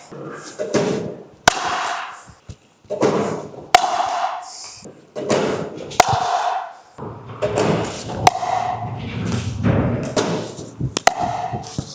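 Loud, sharp pops ring out as a Selkirk Boomstik pickleball paddle hits the ball in an irregular rally, with thuds and footwork between strikes and some faint voices in the background.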